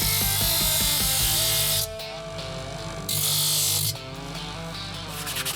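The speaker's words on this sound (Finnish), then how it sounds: "Eli nyt aletaan vähän hiomaan tosta. Otetaan koneella ensin suurimmat." A wooden jerkbait fishing lure is power sanded by machine to take off the biggest excess, giving a loud, steady abrasive whine that breaks off twice for short pauses before starting again, with no talking.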